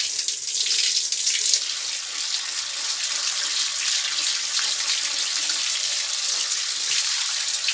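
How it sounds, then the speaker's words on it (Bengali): Tap water runs steadily into a kitchen sink as new potatoes are washed, a continuous bright hiss of splashing water, close and fairly loud, with no talking. "আলুটাও ভালো করে ধুয়ে নেব"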